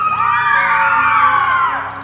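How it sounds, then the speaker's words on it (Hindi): Children and women screaming in terror as a horror-story sound effect, a continuous chorus of high shrieks and yells, loud and steady throughout with no talk. "बच्चे और औरतें चीखते हुए यहां वहां दुबक जाते।"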